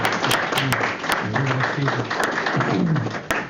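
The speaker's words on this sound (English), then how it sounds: "If everybody join me, just give a little applause for" Applause from attendees at a school district board of education meeting, a modest round of clapping with a few sharper claps and faint voices underneath.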